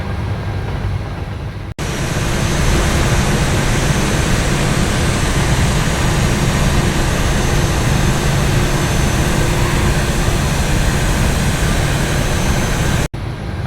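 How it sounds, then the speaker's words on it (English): Airliner engine spooling up during a left engine start in Microsoft Flight Simulator 2024, a loud steady broadband roar that holds continuously throughout after a brief cut at the start, with no voices over it. "starting left engine"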